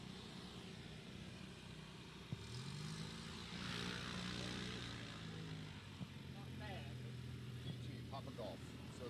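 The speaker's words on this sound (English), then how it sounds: "We're going to get that Cavalon moving up the runway a little bit so the Aeroprac can move as well." A Cavalon gyroplane taxis up the runway at the Sun 'n Fun airshow, its propeller engine droning steadily at a distance as its pitch rises and falls, under faint background chatter.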